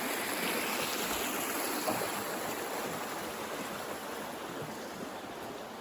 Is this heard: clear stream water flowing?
yes